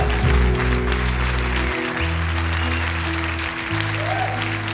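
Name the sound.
auditorium audience applause and shouting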